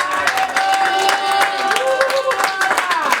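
Church congregation clapping and cheering together, a dense steady wash of claps with voices and singing-like tones running through it.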